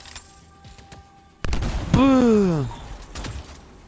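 A weapon fires in the video game Anthem, a sharp burst followed by a rising and falling electronic whine, with a faint voice underneath.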